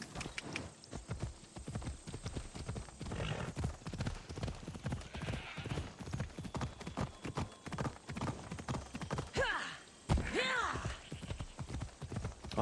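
Horse hooves clip-clop steadily in a video game, a rhythmic run of close hoofbeats, with a whinny near the end and faint speech underneath.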